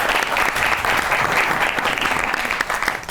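A studio audience claps loudly and continuously for a few seconds on a talk show, a dense even applause with no speech.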